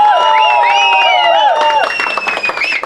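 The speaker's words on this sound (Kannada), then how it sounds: "ದಯಮಾಡಿ ಜೋರಾದ ಚಪ್ಪಾಳೆ ಬರಬೇಕು" Crowd at a film trailer launch event cheering and whooping, with shrill voices and whistles over steady applause, loud and sustained throughout.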